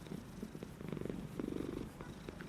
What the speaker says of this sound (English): Can I hear you purring, Cadbury?